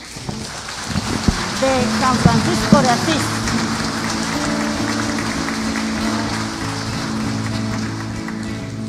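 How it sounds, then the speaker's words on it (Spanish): Congregation at a Catholic mass for Señor de los Milagros in a chapel gives a sustained burst of applause, a dense steady wash of clapping that fills the space, while a voice speaks over its start. "yo les pido un fuerte aplauso para la comunidad"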